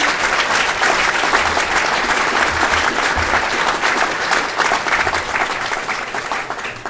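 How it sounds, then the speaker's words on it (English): Audience applause after a university lecture on polar ice, steady dense clapping from a full room that holds evenly for about seven seconds before easing slightly. "So just a round of applause for her there."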